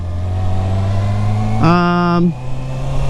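A 2019 Kawasaki ZX-6R motorcycle engine revs sharply upward in a brief, loud burst, rising in pitch for under a second before dropping back, with a steady engine drone before and after.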